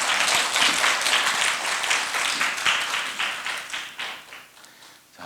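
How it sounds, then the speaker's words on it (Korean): Audience applause in a Korea University lecture hall during a campus liberal-arts festival talk, a dense crowd of clapping hands that holds steady for several seconds and then thins out and fades. "박수 안 치십니까?"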